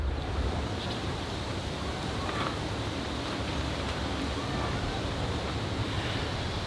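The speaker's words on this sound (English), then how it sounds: "I'm going to give it a watering." Water is poured over a freshly root-pruned ficus bonsai, a steady, even rushing hiss that runs throughout without pause.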